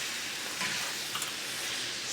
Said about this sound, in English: Stir that around. This is kind of like a stir-fry skillet.